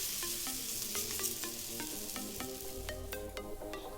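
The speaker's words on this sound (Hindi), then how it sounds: "अब हम रोटी को गैस पे सेक रहे हैं।" Roti roasting over a low gas flame gives a soft, steady sizzling hiss, with scattered light crackles and occasional clicks. The sound is close but fairly quiet, and no one speaks.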